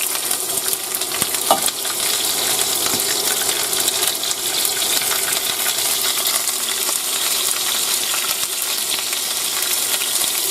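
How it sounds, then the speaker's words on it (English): Steady, bright sizzling of yellow and red peppers frying in a hot pan, a continuous crackling hiss with a few faint clinks, no talking. "Listen to that sizzle."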